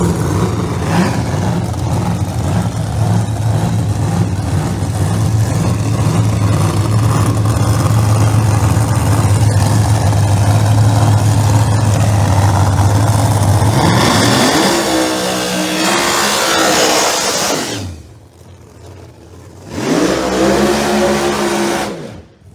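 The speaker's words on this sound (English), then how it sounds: "The roots blown Chevy Camaro in the far lane out of Buffalo, New York." A roots-blown Chevy Camaro Pro Mod drag car at a dragway qualifying session idles with a loud, steady lumpy rumble, then revs hard in rising bursts, drops away briefly and barks once more close by.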